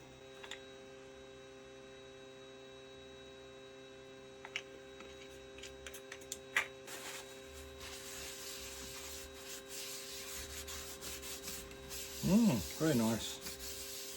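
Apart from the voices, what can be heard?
rubbing Danish wood oil onto decking wood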